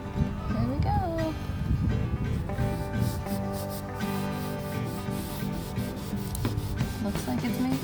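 A cloth rubs and wipes wood color restorer onto a faded, termite-damaged wooden dresser, a continuous scuffing, brushing friction close up, with some voices and breathy sounds in the background.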